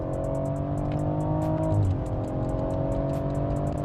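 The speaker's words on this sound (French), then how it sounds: "les passages de rapport" A BMW 140i under hard acceleration, its engine note steady and loud from inside the cabin, with a brief dip and rise in pitch where a gear shift lands partway through.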